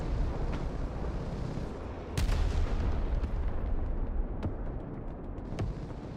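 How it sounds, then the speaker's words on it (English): Bombs from F-35 jets exploding in the military strategy game Broken Arrow, a heavy rolling rumble with a big blast near the two-second mark followed by several sharp distant impacts, no talk. "here come the bombs from the F-35s"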